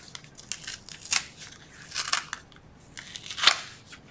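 Backing peeled off magnets for a beginner folio accordion, heard as several close, crisp ripping and crinkling bursts with short quiet gaps between them and no talking.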